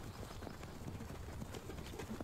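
Steady clip-clop of horse hooves from the anime Attack on Titan, faint and continuous beneath a dense bed of background noise.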